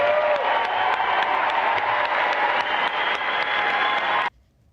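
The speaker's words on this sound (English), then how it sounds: "Let's give them a big round of applause." An audience breaks into sustained applause for newly announced NASA astronaut candidates, a dense, even wash of clapping for about four seconds that stops abruptly.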